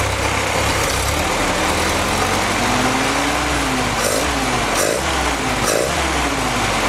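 An M38 Willys jeep engine idles steadily on its original carburetor, a continuous close rumble with a faint tonal hum and no other sounds.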